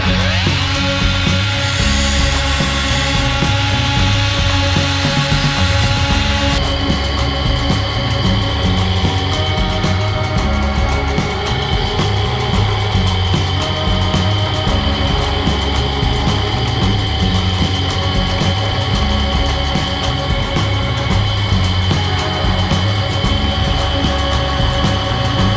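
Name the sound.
angle grinder grinding metal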